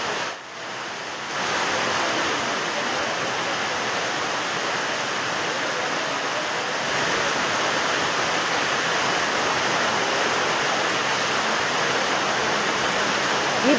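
Rainwater leaking and flowing inside Koppal railway station, a newly built station not yet inaugurated and faulted for poor construction, makes a steady, dense rush of water that runs unbroken throughout, with no voices.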